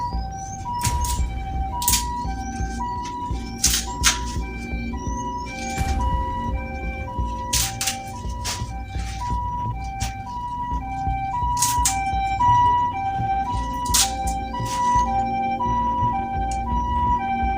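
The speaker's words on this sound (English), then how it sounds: "That is an ambulance." An ambulance siren wails continuously over steady road traffic rumble, its repeating tones cycling loudly throughout and swelling slightly toward the end as the vehicle draws nearer.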